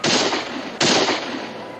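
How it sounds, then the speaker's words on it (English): Two loud, sharp gunshots from a frontier garrison in a 1969 Western drama, under a second apart, each followed by a long rumbling echo. "Shots are coming from the garrison, all right, but they're not shooting at us."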